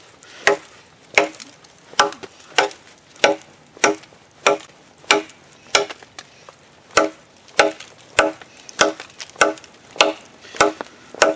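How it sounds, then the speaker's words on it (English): A Bear Forest Woods Butcher bushcraft bowie knife with CR80 CRV2 steel chops into a piece of hardwood, about twenty sharp, evenly spaced whacks in a steady rhythm, close and loud with quiet gaps between strikes. "I'm going to do a series of chopping tests with it though."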